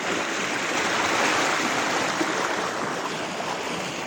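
Floodwater rushing in a steady, loud, broadband roar, continuous and close, with no voices over it.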